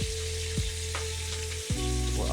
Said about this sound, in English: as I'm stirring it, I'm also scraping everything off the bottom